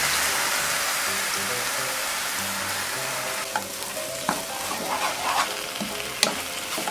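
Ivy gourd leaves stir-fried with egg in a hot pan for a keto dish, a steady loud sizzle with scraping stirs and a few sharp clicks of the utensil toward the end, no talking.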